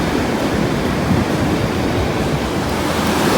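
Ocean waves wash onto a beach in a loud, steady roar of surf mixed with wind noise on the microphone, with no voices.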